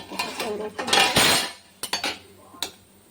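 Metal pot lid set over rice cooking in a pot, a few sharp clinks and clatters of metal on metal, close and fairly quiet.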